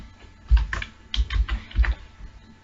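Keys clack on a computer keyboard in three short bursts of quick taps separated by brief pauses, close and crisp, with no talking.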